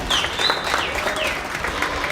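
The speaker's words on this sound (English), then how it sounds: "Let's give all them folks a round of applause for the job well done." Crowd applause at a county junior livestock show, a short burst of clapping heard at moderate distance with a voice briefly audible over it.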